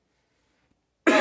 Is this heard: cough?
yes